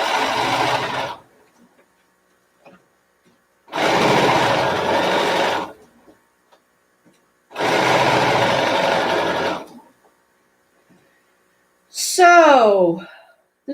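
Home sewing machine stitching a quarter-inch seam on fabric scrub caps, running in three separate bursts of steady whirring a few seconds each with quiet gaps between, then a short high sliding squeal near the end.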